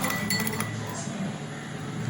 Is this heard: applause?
no